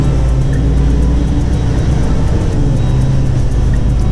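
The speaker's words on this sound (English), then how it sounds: "You can hear the truck groaning and creaking." Heavy truck cab interior during a tight, slow turn, a steady loud low drone with rumbling and faint creaks running throughout, no voices.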